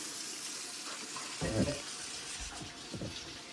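Water runs from a kitchen tap as hands are washed after mixing meatloaf, a steady close hiss with a few brief splashes and clatters partway through.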